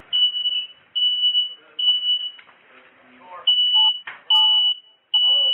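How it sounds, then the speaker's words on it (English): A shrill electronic alarm beeps in long repeated bursts, with scuffling, thuds and muffled voices between the tones. "we can hear the fire alarm begin going off when the SWAT team blows in"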